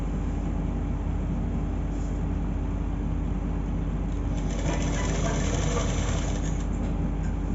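A sewing machine runs steadily while stitching a border strip onto a blouse, its motor hum continuous and close, with a brief louder burst of stitching toward the end.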